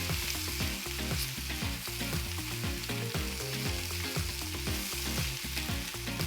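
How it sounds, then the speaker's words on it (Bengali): Turmeric-and-salt potato pieces are turned over in hot oil in a pan, a constant sizzle cut by frequent rhythmic scrapes and knocks of the spatula, close and loud, with no voices. "এবং আলুগুলোকে ভালো করে একটু উল্টে পাল্টে নেব"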